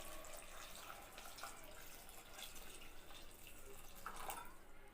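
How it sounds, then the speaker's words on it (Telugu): Water poured into a pressure cooker holding dal with vegetables and chili powder, a steady soft splashing trickle that runs continuously, fairly quiet and close, with no voices over it. "ఇప్పుడు వాటర్ వేసుకుందాం."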